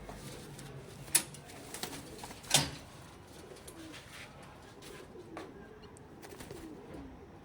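Racing pigeons at a loft coo softly in the background, low murmuring calls with a couple of sharp clicks or flaps, faint and with no talk.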